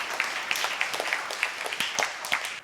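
A scattered, thin round of clapping from a small audience at a Tamil debate forum, with individual claps distinct and uneven rather than a full roar.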